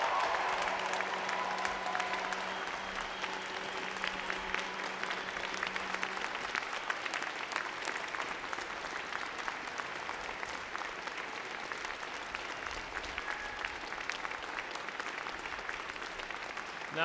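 Sustained applause from friends, family and platform guests for a fall graduating class at a Simon Fraser University convocation ceremony, an even wash of many hands clapping at moderate distance, with a low hum fading early on.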